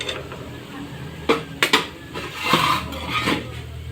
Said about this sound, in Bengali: এভাবে তেল সরিয়ে সরিয়ে পিঠাগুলো তুলে নিচ্ছি